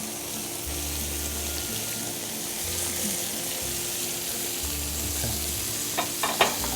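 Tomato sauce sizzles and bubbles steadily in a hot restaurant pan, a continuous fizzing hiss with a few sharper clinks of a utensil near the end.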